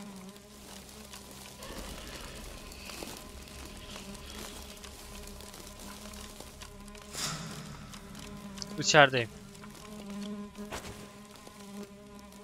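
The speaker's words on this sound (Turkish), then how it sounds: "İçeride sinekler var." Flies buzz inside a tower in the video game Black Faith, a steady insect drone with a louder buzzing pass near the end, under a game soundscape while a person speaks briefly.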